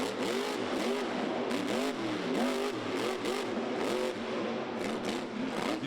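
A Monster Jam monster truck with an Anderson-style exhaust revs hard during a 2012 freestyle run at M&T Bank Stadium in Baltimore, the engine note rising and falling in quick repeated surges over a roaring crowd.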